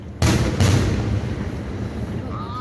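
Two loud booming firework blasts a moment apart, close by outdoors, followed by a long rumbling echo and a faint whistling streak near the end.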